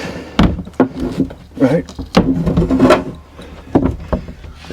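A Jeep Wrangler hardtop is lifted solo and lowered onto the vehicle, with a series of hollow thunks and knocks as the panel settles onto guide pins, loud and close, with someone speaking briefly.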